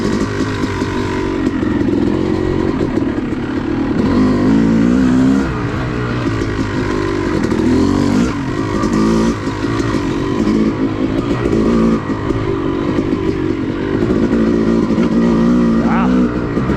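A Yamaha YZ250 two-stroke dirt bike rides an OHV woods trail, its engine droning loud and steady with rising and falling revs and throttle blips, close and continuous throughout.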